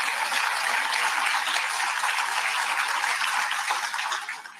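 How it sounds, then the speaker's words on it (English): Sustained applause from an audience at a Kamala Harris speech, dense steady clapping that holds at full strength for several seconds before fading out near the end, with no talking over it. "So notice there's a lot of applause there."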